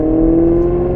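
A Maserati GranTurismo's Ferrari V8 hums steadily at around 2,000 RPM, a loud, even drone with a strong tonal note and no speech.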